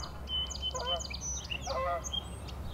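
Geese honk by a river in repeated loud calls, several overlapping in a bunched series near the start and another burst later, over a steady low background rumble.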